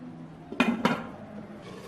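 Two sharp metallic clanks from a cooking pot of water being handled before steaming snails with ginger, close and loud, followed by faint rattling.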